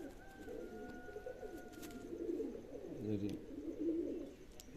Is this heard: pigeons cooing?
yes